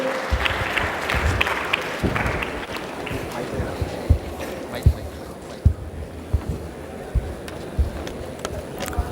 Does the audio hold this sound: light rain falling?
no